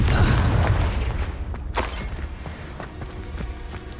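A Confringo blast spell goes off in the Hogwarts Legacy video game: a loud booming burst lands near the middle of the clip, with a dense roar of rumbling game action before it and around it.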